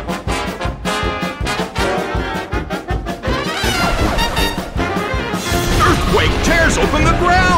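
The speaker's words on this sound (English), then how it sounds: "A smashing blow!" A smashing blow lands in the Pokémon Battle Revolution video game, a loud crash and thwack of impact amid dense game music and effects, building into a louder burst of battle noise toward the end.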